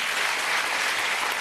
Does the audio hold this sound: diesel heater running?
no